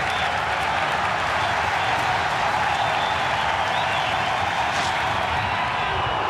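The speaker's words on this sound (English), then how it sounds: "Enormous pressure with the crowd roaring" A cricket stadium crowd roars and applauds steadily during a 1999–2000 Australia vs India one-day match, a dense, loud wash of cheering and clapping that holds throughout.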